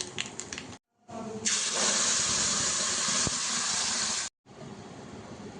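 A paste of ground vegetable peels hits hot oil already crackling with nigella seeds and erupts into a loud, steady sizzle that lasts a few seconds before cutting off. Softer frying sounds play before and after it.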